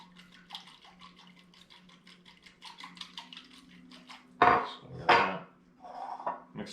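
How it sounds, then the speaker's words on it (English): A marinade for sirloin steak whisked in a bowl, light rapid ticking strokes in quick succession, followed by a couple of louder knocks and scrapes against the bowl nearby. "I'm going to whisk this all together."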